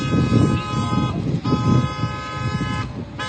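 A car horn blares in a long, steady honk with brief breaks, loud and close over a low rumble of traffic and engine noise.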